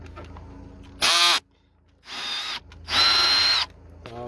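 Power drill loosening a bolt on the fuse box of a 2003 Ford Expedition XLT, three short close bursts of whirring motor separated by quiet pauses.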